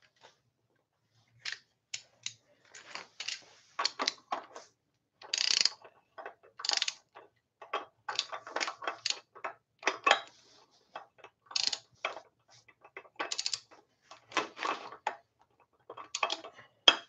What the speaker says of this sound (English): now we're going to torque this sucker to 18 foot-pounds